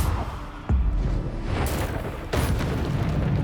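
Booming blasts from the Bombarda explosion spell in Hogwarts Legacy, several heavy impacts in quick succession over a dense rumbling game soundscape, loud and close.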